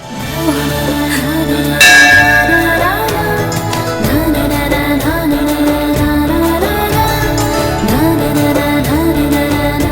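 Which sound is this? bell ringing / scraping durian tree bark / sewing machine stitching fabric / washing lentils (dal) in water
bell ringing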